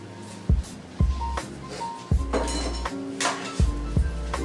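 Chopped fresh broccoli tossed into a pan of cooking beef, a string of sharp clinks and thuds spaced irregularly over a low sizzling bed, close and fairly loud, no talking.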